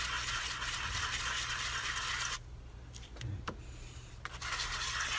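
Wet sandpaper rubbed over a resin photo cube, a steady close rasping scrub that stops partway, followed by a few small taps and handling sounds before the scrubbing resumes.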